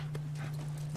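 Horse hooves clip-clop in The Last of Us, a ridden horse moving at a steady pace over a constant low electronic hum, with a few sharper hoof strikes standing out.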